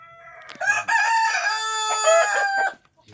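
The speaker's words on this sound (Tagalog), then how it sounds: "Pero ulit sa mga alaga kong manok lods." A single pet rooster lets out one loud, close crow that rises and holds for about two seconds before cutting off, with no other sound around it.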